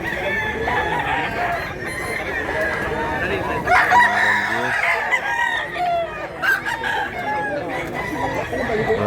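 A rooster crows loudly and hens cluck among the birds at a chicken seller's stall, with the crowing rising and falling over a busy backdrop of murmuring voices.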